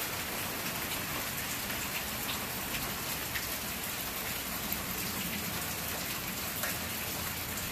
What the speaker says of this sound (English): it's already raining pretty good